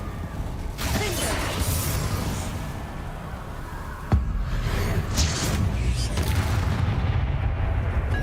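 A Confringo blasting curse goes off in Hogwarts Legacy amid a chaotic spell battle: dense, rumbling combat noise with one sharp explosive crack partway through, followed by a heavier, continuous roar.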